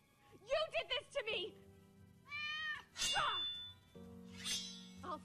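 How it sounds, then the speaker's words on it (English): Cats meow repeatedly in the Minecraft Story Mode video game, a string of close, high, wavering cries mixed with game character voices and clanging effects. "Ooh, the cats."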